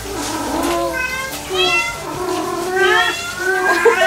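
A ginger cat at an animal shelter meows repeatedly in loud, close, drawn-out cries, several calls in a row with short gaps between them.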